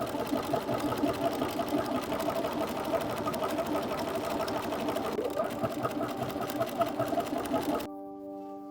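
Sewing machine stitching down a folded hem edge on a ruffle cloak, a steady mechanical hum with fast rhythmic needle strokes running for about eight seconds before stopping abruptly.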